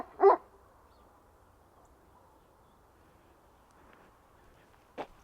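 Two single dog barks sound clearly, one near the start and another about five seconds later, each short and sharp, separated by a quiet outdoor lull.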